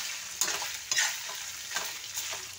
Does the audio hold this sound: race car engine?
no